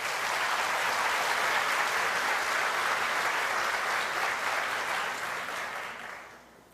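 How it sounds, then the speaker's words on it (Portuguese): A church congregation claps together during a worship service, a dense, steady wash of applause that holds for several seconds and then tapers off at the end, with no voices over it. "Aplauda o Senhor"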